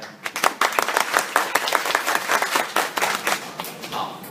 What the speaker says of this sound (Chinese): 鼓掌欢迎